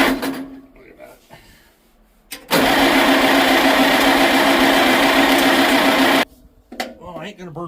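A Farmall Super C tractor engine cranks hard on its starter in one sustained burst of several seconds, loud and close, without catching, with someone talking before and after.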